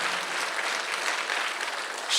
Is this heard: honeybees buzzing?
no